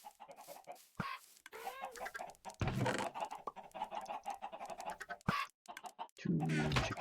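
Chickens on a farm in a video game, clucking and squawking in bursts with brief pauses, fairly close and clear, a rooster-like call rising near the end.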